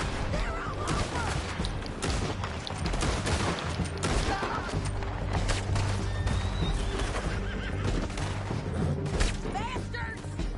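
Horses neigh and whinny repeatedly while hooves gallop in a frantic chase in the video game Red Dead Redemption 2, mixed with bursts of gunfire and a constant low rumble of motion.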